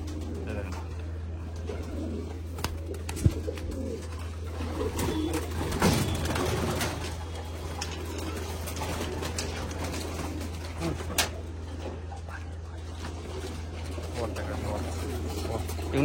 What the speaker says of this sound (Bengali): দেখো এই পায়রা, দেখো দেখো